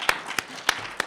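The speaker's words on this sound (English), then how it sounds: "Can we get a big round of applause for Camilla D'Errico" Audience applause at a Calgary Expo 2013 panel, heard as a few distinct, well-spaced hand claps over a low room murmur, sparse rather than a full ovation.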